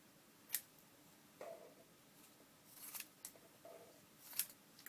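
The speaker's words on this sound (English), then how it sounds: "I want to do some trimming." Scissors trimming paper for a woven paper artist trading card, a few quiet crisp snips spaced apart in a hushed room.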